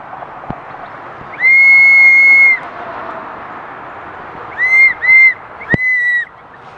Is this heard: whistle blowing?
yes